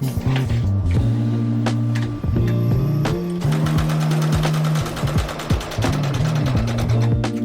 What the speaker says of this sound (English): I'm gonna press this and then understitch this pocket down